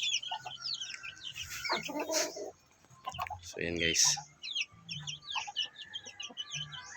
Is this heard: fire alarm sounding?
no